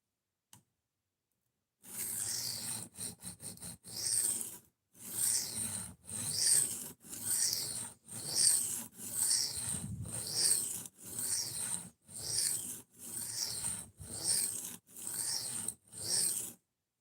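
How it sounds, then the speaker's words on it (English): A knife is sharpened with a series of rhythmic scraping strokes, about a dozen close, even passes after a few short quick ones at the start. "I love the sound of when people are sharpening stuff"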